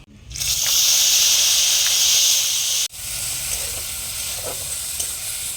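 Onion paste dropped into hot oil with whole cumin seeds, a sudden loud sizzle that holds steady, then briefly cuts out and resumes slightly quieter with faint stirring scrapes.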